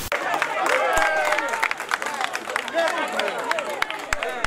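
A crowd applauds and cheers an alleged killer, dense overlapping claps mixed with lively voices and babble throughout, busy and close.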